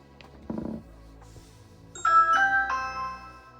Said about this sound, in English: I press the doorbell button